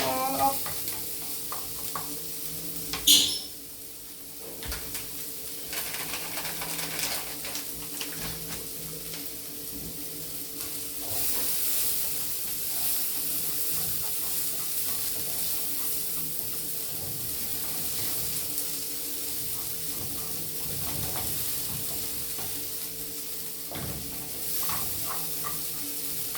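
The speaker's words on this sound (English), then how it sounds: "Stir it all up." Fish and vegetable pie filling sizzling in a pot as it is stirred, a loud clatter near the start, then a sustained close hiss with scattered scraping and light clinks.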